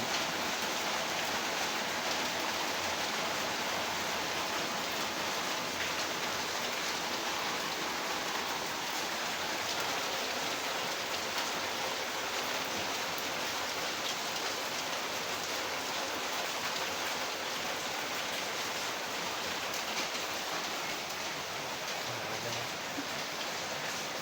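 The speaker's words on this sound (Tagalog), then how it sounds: "Lakas ang ulan, blessing, maagang blessing." Heavy rain pours steadily and loudly over a junk-collection yard, a dense unbroken hiss of drops on surfaces lasting throughout with no talk.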